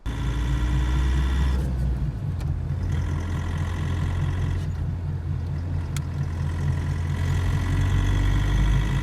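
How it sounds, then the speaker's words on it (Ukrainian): A VW Golf 2 turbodiesel engine running healthily, a steady low rumble with an even mechanical clatter that holds at a constant level for the whole stretch, close and loud, with no voices. "От як має працювати ТНВД, ну точніше, турбодизель, якщо він справний."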